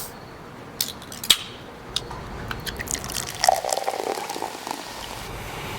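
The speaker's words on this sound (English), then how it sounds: "Can you hear the bubbles?" A freshly opened can of peach mead fizzes with scattered sharp pops and drips at first, then a denser bubbly crackle builds and carries on steadily.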